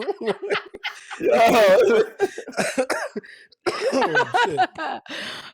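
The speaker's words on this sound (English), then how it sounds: "I'm stopping muting my coughs, man. This is getting worse." A harsh, drawn-out coughing fit bursts out close by between stretches of someone talking, followed by more brief coughs.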